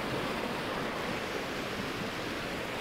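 Eagle Creek water rushes and ripples around rocks, a close, steady broadband roar of flowing water with no pauses or voices.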